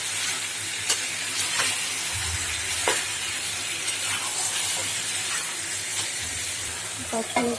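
Chicken curry with fried potatoes sizzles hard in the pan as it is stirred, a dense continuous hiss with scattered scraping clicks from the spoon, close and loud throughout.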